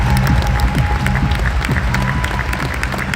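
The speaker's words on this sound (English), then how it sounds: "Please put your hands together for the president of the Anaheim Ducks Hockey Club" Audience applause and cheering from a large crowd at the Anaheim Ducks Summer Flock Party, a dense, steady wash of clapping that carries on for several seconds with a music bed underneath.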